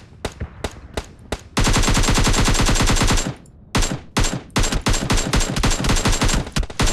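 Loud, close automatic gunfire in the mobile shooter PUBG Mobile, with scattered single shots, then a long sustained burst, a short pause, and more rapid bursts.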